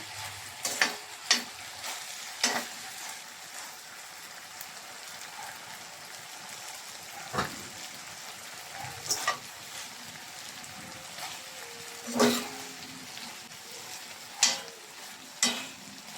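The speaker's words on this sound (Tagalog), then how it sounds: "So, gigisahin na po natin ito." Chicken liver adobo simmered in coconut milk, reduced until nearly dry in a pan, gives a steady low sizzle broken by sharp stirring scrapes and clicks that come every few seconds, close to the listener, with no voices.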